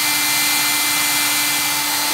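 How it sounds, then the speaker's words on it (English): A steady, loud blowing whir with a constant electric motor hum, like a hair dryer running close by without pause. "Now we're just gonna hit this with a hairdryer."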